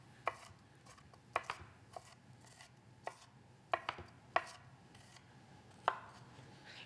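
Knife chopping omelet ingredients into tiny pieces on a board: about a dozen sharp, quiet, close taps in an irregular rhythm over low kitchen hum, no voices.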